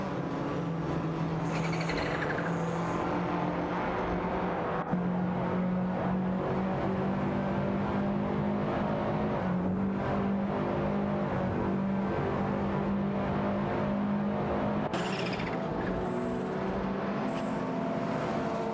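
AI-driven race cars roar around a track in a racing video game, several engines whining and shifting through gears as they accelerate away, loud and continuous with overlapping passes and no talk.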